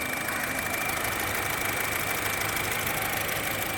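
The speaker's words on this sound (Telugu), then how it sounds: "ఇంజిన్ చాలా స్మూత్గా ఉంది సార్." A 2017 Honda City V petrol sedan with 67,000 km on it idles with a steady, even engine hum and a faint whine. The sound is continuous and close, with no voices.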